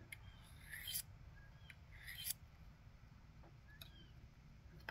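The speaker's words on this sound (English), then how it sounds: "Then I'm just going to take my honing rod." A multi-tool blade is drawn along a honing rod in two faint, quick metallic swipes, followed by a few light ticks, all close and quiet.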